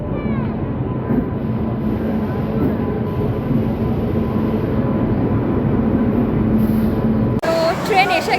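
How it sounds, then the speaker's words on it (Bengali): A train pulls into a station, its deep rolling rumble and rail noise holding steady and fairly loud throughout, then giving way to a brief sharper change of sound near the end. "তো ট্রেন এসে গেছে ফাইনালি।"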